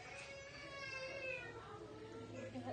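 A cat in a veterinary clinic, handled after a declaw procedure, gives a drawn-out wavering meow that rises and falls. It is faint and continuous over low background hum.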